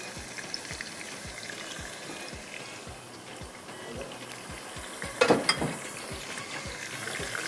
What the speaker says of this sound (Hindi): चलिए, अब तेज़ आंच पे इसको बस मैंने भूनना है।